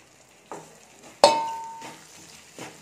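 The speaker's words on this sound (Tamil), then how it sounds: "இப்போது நம்ம எடுத்து ஃப்ரை பண்ணி வச்சுருக்க இந்த சோயா மீல் மேக்கரை வந்து நம்ம ஆட் பண்ணிடலாம்." Fried soya chunks tipped into gravy in a pan, with a few soft clatters and scrapes, one sharp clink of a utensil on the pan, and a faint sizzle between them.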